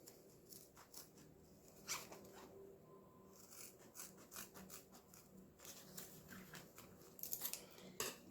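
Scissors snip thread at close range while a small mini cosmetic bag is being finished, giving a series of quick, soft cutting clicks over a low, steady room hum with no talking.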